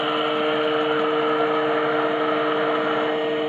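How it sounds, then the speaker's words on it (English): A small onboard compressor in an RC model submarine hums steadily as it refills the air tanks, a constant close mechanical drone with a faint tonal whine and no talking. "the compressor's come online, just filling the air tanks back up"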